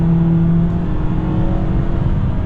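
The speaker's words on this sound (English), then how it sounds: "Yeah, downshifts pretty quickly and gets us up to speed." A 2022 Ford Maverick Lariat downshifts and accelerates on a highway, heard from inside as the engine note climbs over steady road rumble, close and fairly loud, with no talk.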